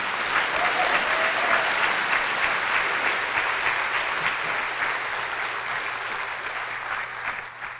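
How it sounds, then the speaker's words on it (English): Audience at a community walk and candlelight vigil applauding, a dense, steady round of clapping from a crowd that slowly tapers toward the end. "Please give them a round of applause."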